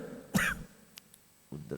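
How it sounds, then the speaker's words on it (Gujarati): A single sharp cough or throat clear from a man during a spoken religious discourse, loud and close, followed by quiet and then the start of more speech. "ઉધરસ છોડતી નહીં."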